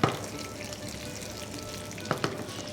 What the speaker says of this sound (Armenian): շիրը հարկավոր է շատ քիչ տապակել